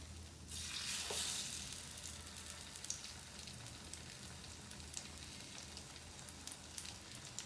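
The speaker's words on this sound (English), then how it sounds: "once you are done with putting the bread on the pan, then you make the heat medium" Bread frying in a pan for French toast over medium heat, a soft continuous sizzle with a brief louder burst near the start, faint and steady, no voices.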